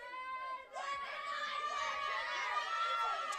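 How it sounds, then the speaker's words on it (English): Goffstown high school softball players cheering from the dugout during a game against Winnacunnet, a continuous mix of overlapping shouting and chattering voices heard from a short distance. "a lot of life from Goffstown in the dugout here, cheering him out"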